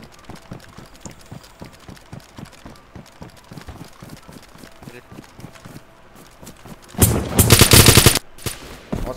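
Rapid bursts of gunfire in DayZ crack out in quick rhythmic volleys, ending in one loud heavy blast near the end, with voices underneath.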